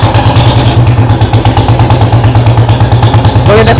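Royal Enfield Bullet motorcycle, just repaired for a tik-tik engine noise, running loud and close after a kick start with a steady thumping, clattering idle and a brief rev near the end.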